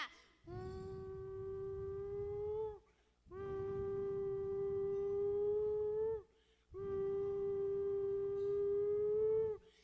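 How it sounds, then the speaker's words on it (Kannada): Three long, steady blasts of a conch shell at Chamundi temple in Mysuru, each a few seconds with a bright buzzing tone and brief pauses between. "ಅಲ್ಲಿ ಆದ ಶಂಖದ ಶಬ್ದ."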